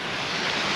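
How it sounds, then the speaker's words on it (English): Rushing water of a waterfall in a Cairngorms glen, a steady dense roar heard up close with broadband wind-like noise throughout the short span and no voices. "Talk about my own personal waterfall."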